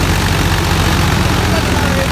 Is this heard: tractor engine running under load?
yes